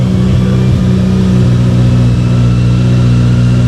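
A car engine runs loudly and steadily up close with its top mount off and the mass airflow sensor unplugged, a constant low droning hum with slight rises in revs.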